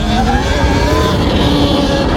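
A Talaria XXX electric enduro motorbike is ridden in a short test, its motor giving a continuous whine over tire and wind noise, close and fairly loud throughout.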